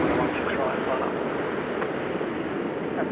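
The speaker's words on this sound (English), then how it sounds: "So when we watch this aircraft land" An aircraft landing at Sydney Airport at night, heard as a loud, steady broadband roar that stays constant throughout, with people talking over it.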